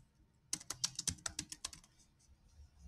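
A burst of quick keystrokes on a computer keyboard as a terminal command is entered on Kali Linux, about a dozen close, crisp clicks in a rapid run lasting over a second, then quiet.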